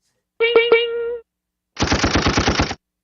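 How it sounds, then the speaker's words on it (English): Gunshot sound effects: a short burst of three sharp shots, then after a pause a rapid machine-gun volley of about a dozen close, loud rounds, with no talk over them. "get some fucking gunshots up in this bitch."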